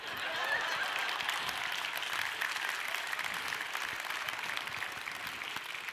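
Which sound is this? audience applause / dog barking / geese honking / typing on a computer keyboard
audience applause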